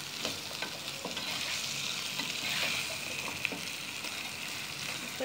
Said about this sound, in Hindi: अभी चने डाल के इसको थोड़ा सा भूनेंगे अच्छे से